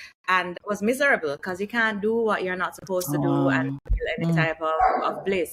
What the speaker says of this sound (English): if you hear that barking, that is my dog